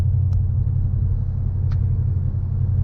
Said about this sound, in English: The car is spinning a bit, so the RPMs climb really high.